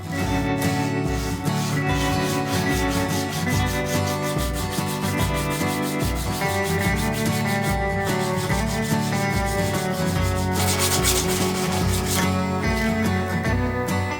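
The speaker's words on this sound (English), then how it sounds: "Only that we're using sandpaper, which is not really old times" Rhythmic back-and-forth hand sanding of a cheap hatchet with sandpaper, steady rasping strokes close up for the full duration with no talk.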